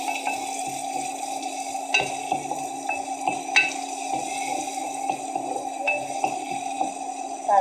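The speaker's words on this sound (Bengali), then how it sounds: "একটু ভালো করে নাড়াচাড়া দিয়ে" A pot of hilsa fish curry with ripe and unripe tomatoes is stirred, giving repeated close scraping strokes over a steady low sizzle, with no voices.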